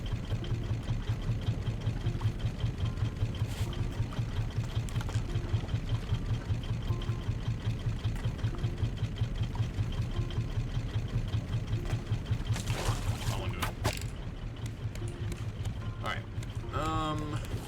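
Boat engines run steadily in the survival game Raft, a constant low drone that stays level throughout, with brief higher clicks and chirps of game sounds near the end.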